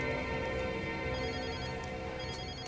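A telephone rings steadily and fairly loudly throughout, a continuous electronic ringtone with layered tonal harmonics and no voices.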